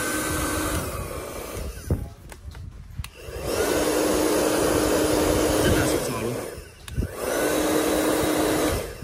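A hair dryer runs loudly in two long stretches with a steady whooshing roar, cut by a brief pause with clicks and handling noise as it switches off and on again; a second-hand household appliance being tested.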